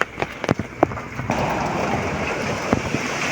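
Steady patter of light evening drizzle under a Signal No. 2 typhoon, a soft continuous hiss with a few scattered closer drops, no wind.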